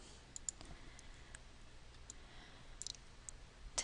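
Computer mouse clicks, a handful of sharp, quiet, isolated taps spaced irregularly over a faint hum, with a quick double click near the end, close and alone.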